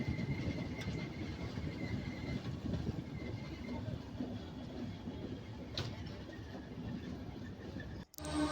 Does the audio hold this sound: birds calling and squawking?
no